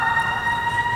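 Emergency vehicle siren, a sustained steady wail with bright harmonics, fairly loud over low background rumble.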